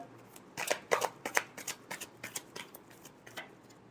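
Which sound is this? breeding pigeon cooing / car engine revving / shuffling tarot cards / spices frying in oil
shuffling tarot cards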